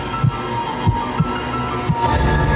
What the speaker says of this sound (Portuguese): um profundo silêncio permite ouvir o seu coração batendo